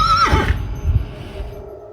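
A horse on a ranch gives a single close, loud neigh with a falling whinny, followed by a soft snort and quiet breathing.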